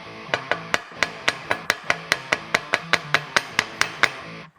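A tapered drive shaft piece is tapped into the end of a shortened shaft with a hammer, about eighteen sharp ringing metallic strikes in a quick, steady rhythm, close and alone.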